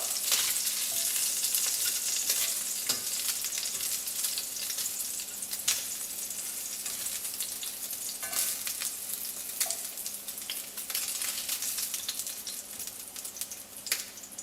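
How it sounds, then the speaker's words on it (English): Pork browning in a pan for Filipino adobo sizzles with a steady, moderate crackle and hiss, dotted with small pops and occasional clicks, and no talking over it. "we're just going to brown this meat up"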